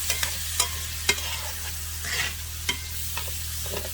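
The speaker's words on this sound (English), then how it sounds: "Oh, look at those mushrooms. I'm going to cook them down just a little bit." Sliced mushrooms fry in a hot pan, meant to top T-bone steaks, with a steady sizzle under sharp scrapes and clacks of a utensil stirring them at irregular intervals, close and fairly loud.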